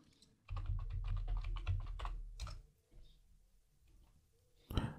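Passphrase for an SSH key being typed on a computer keyboard, a quick run of close key clicks that pauses briefly before a few more taps and a final louder keystroke.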